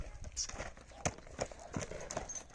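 A stallion's hooves clop at an irregular pace nearby, sharp knocks over a quiet outdoor background.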